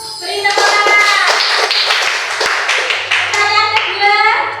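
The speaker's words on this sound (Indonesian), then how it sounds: "Beri tepuk tangan." Schoolchildren in a classroom break into a brief burst of hand clapping, a quick patter of many hands that swells and then tails off, with young voices mixed in.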